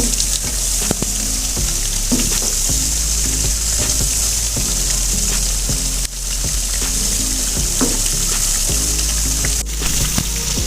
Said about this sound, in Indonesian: kita goreng kuning kecoklatan seperti ini